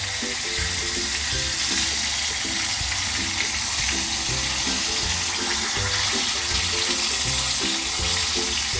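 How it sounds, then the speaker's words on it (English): Homemade popcorn chicken fries in hot oil, a loud continuous bubbling sizzle with faint rhythmic clinks underneath, steady throughout with no talk. "We will fry it for another minute and remove it out."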